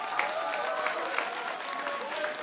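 A political concert audience of Daegu and Gyeongbuk Democratic Party supporters gives a big round of applause, a dense, even roar of clapping hands with a few sharper claps standing out, sustained for a couple of seconds.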